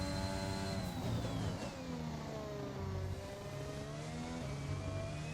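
Formula 1 car engine in F1 2021 accelerating out of a corner: a loud, high-pitched whine that climbs and dips through the gears, with other cars' engines droning nearby.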